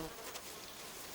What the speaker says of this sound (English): a mud wasp is preparing her family's defenses